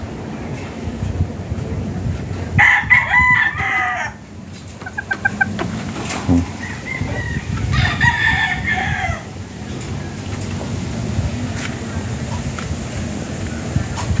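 Gamecock roosters crow in two clear bursts with clucking between, fairly close, over steady outdoor background noise.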